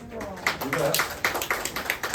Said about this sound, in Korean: 박수 한번 여러분